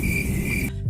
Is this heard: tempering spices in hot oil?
no